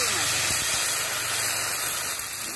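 Water poured into a hot pan of frying onion paste and garlic paste with dry chilli, bay leaf, cloves and cardamom gives a steady, loud steaming hiss that holds for the whole moment.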